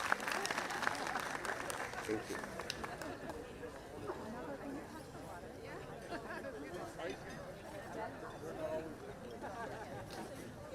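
Applause and crowd chatter at a community cultural evening, clapping mixed with a lively hubbub of voices that continues at a moderate level throughout.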